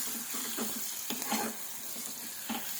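Sheep blood frying in a pan with turmeric and salt, sizzling steadily throughout with occasional stirring scrapes and small pops, close and fairly loud with no talk.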